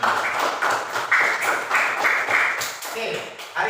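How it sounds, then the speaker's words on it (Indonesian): A class of students claps their hands together in a classroom at the end of a lesson, a burst of quick, uneven clapping with some voices mixed in. "Oke, tepuk tangan."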